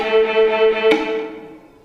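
A pitched note re-struck in rapid sixteenth notes against metronome clicks, four to each beat. One sharp click stands out, then the tone fades.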